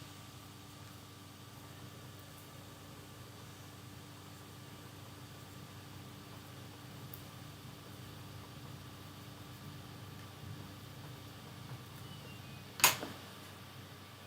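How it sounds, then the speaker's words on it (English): A clothes dryer running nearby: a steady, low, faint droning hum with a soft whir throughout, broken by a single sharp click near the end. "That's the dryer."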